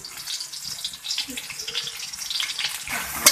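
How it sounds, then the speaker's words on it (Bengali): Chopped onion and sliced green chilies sizzle in hot oil in a pan, a steady, fairly loud crackling hiss throughout with no talking. "তেল দিয়ে দিলাম পরিমাণ মতো এখন অ্যাড করব পেঁয়াজ কুচি কাঁচামরিচ ফালি"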